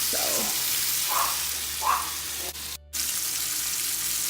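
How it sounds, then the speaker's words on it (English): Bacon frying in a pan on the stovetop, a steady broadband sizzle running throughout at moderate level, with a few brief clinks and a short dropout partway through. "bacon is cooking, so I'm going to cook that until it's done"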